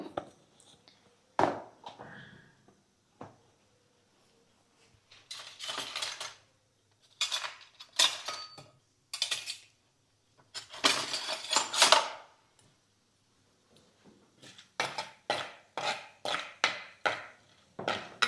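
A metal spoon scrapes and clinks against a hot pan while scooping fried tempering seeds from heated oil, making bursts of sharp scraping and clinking separated by short pauses, close and clear with no talk.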